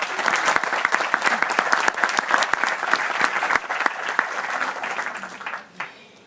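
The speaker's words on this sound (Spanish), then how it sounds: "Un aplauso para ellos." An audience at a university forum in Mexico breaks into sustained applause, crisp individual claps over a dense crowd wash that gradually thins and tapers off near the end.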